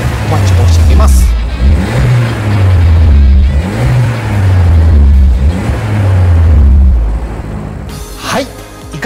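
Suzuki Swift Sport ZC33S built as a Monster Sport Fukuoka Version-B complete car, its engine revving close by in repeated rising and falling pulls that swell loudly and then drop back, with a brief sharp noise near the end.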